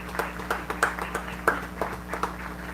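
Scattered, sparse clapping from a small crowd at a high school soccer game honoring veterans, individual claps standing out at an uneven pace over a low steady hum.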